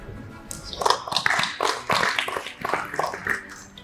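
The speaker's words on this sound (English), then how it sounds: "big round of applause for all that." Scattered applause from a business audience at a hospitality industry forum, uneven claps rising and falling in short bursts for a few seconds.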